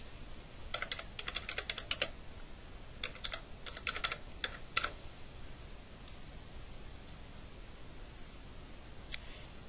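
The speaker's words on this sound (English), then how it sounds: "Like sticky notes, you can type right into it." Typing on a computer keyboard into a text note in Kurzweil 3000 software: a few quick bursts of close key clicks in the first five seconds, then only quiet room hiss.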